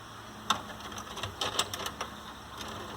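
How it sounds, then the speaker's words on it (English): A Toshiba DVD/VHS combo VCR with a fault keeps pulling an ejected tape back in, giving faint, irregular mechanical clicks and whirring clatter close by. "I can't figure out why when you eject the tape it won't stay out."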